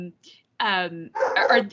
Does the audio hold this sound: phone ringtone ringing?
no